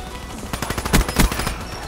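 Rapid automatic bursts from a sentry gun in Call of Duty: Black Ops 3, a dense stream of sharp repeated shots with a couple of louder cracks in the middle, close and loud with no talk over it.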